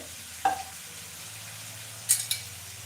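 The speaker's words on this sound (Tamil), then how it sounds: "நல்லா மொறு மொறு நல்லா டேஸ்ட்டாக வரும் வறுத்துனா ஹை ஃப்ளேமில் வச்சுட்டு" Soaked green gram (moong) frying in a pan over a high flame gives a faint, steady sizzle, with a few sharp spatula clicks near the start and toward the end.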